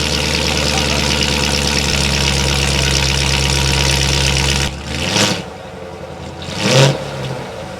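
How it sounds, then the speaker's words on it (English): A cheap 78,000-mile Chevrolet Corvette that is leaking transmission fluid runs with a loud, steady engine drone, then drops to a quieter, rougher idle broken by a couple of short bursts. "That didn't lock up. That started beautifully."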